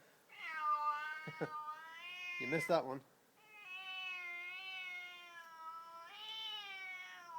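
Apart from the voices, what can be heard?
cat meowing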